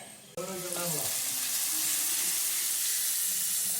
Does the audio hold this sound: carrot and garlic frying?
yes